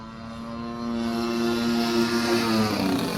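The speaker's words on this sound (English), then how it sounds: "A 55cc gas engine gives this plane strong and steady power." A gasoline-powered RC plane with a 55cc gas engine drones steadily overhead at an airshow, its propeller note loud and slowly rising in pitch with no talk.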